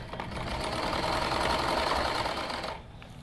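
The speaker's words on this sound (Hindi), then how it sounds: "इस साइड में इस तरीके से सिलाई लगानी है।" An electric sewing machine stitches the side seam of a kurti with a steady, continuous mechanical whir at close range. The stitching runs unbroken, then stops near the end with no talk.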